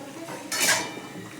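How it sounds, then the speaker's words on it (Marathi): Salted cauliflower stirred in a pan for a homemade dish: a short burst of metal utensil scraping and clinking against the cookware, fairly close, with a louder swell midway and no voices. "मिक्स करून घेऊया"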